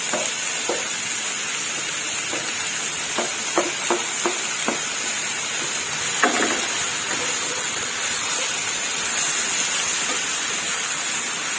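Mushrooms stir-fry in a pan for home-style Thai spaghetti, giving a constant close sizzling hiss broken by scattered scraping clicks from the spatula.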